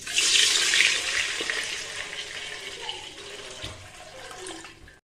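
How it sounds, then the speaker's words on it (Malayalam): Water pours steadily into a pot, a bright rushing splash that gradually softens and tapers off over a few seconds. "താഴ്ന്ന വെച്ച പാത്രത്തിൽ വെള്ളം എടുത്ത് ഒഴിക്കാം"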